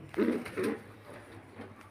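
A pair of Kilom pigeons, one male and one female, give two soft, low cooing bursts close by, followed by a quieter third coo near the end.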